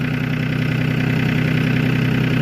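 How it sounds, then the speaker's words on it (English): A tractor engine idles loudly and steadily on a farm after an ice and snow storm, a constant low chugging drone with no pauses and no voices. "I'll try not to get the tractor real loud to where you can't hear me talk."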